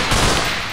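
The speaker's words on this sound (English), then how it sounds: "I heard grenade" Grenade explosion in UnderHell, a loud, close, broad blast with a rolling rumbling tail lasting under a second.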